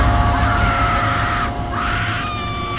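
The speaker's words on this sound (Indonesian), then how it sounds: "teriak perempuan dari dalam ruangan itu" A woman screams hysterically inside a room in a radio horror drama, a sustained shrill cry that breaks briefly and resumes, loud and close over a steady background.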